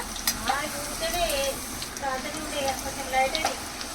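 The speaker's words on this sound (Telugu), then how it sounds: "నేను ఇప్పుడు చూడండి డీప్ ఫ్రై చేసుకుంటా" Masala papad deep-fries in hot oil, giving a continuous bubbling sizzle with crackles, while a voice talks over it.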